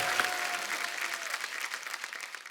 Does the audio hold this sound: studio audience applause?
yes